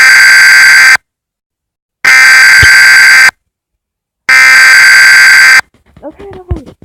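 Three long, loud homemade Emergency Alert System header tone bursts, each about a second of harsh buzzing data tones separated by silence, followed by brief quieter chirps.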